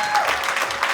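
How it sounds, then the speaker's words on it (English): A comedy club audience applauds the comedians, a dense burst of clapping and crowd noise lasting about a second, fairly loud and close. "Give a round of applause to all the comedians you've seen doing their thing."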